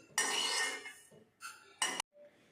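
Roasted sesame seeds are tipped from a pan into a bowl in three short bursts of clinking and rattling metal and seed, separated by brief pauses.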